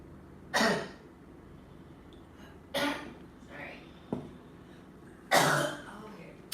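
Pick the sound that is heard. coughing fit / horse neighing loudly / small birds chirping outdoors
coughing fit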